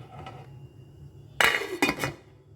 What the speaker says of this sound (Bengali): এবার আমি একটা ঢাকনা দিয়ে দেবো, এটাকে ফুটতে দেবো।